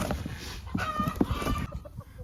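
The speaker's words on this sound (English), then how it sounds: "So you already see the chickens being fairly curious about these boxes." Chickens cluck softly nearby, with a few short calls over a faint steady background hum.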